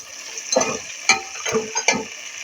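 Green and red chillies frying in a pan for dal chana pulao, soft sizzling with a few distinct stirring scrapes and clicks, quiet and close, no talking.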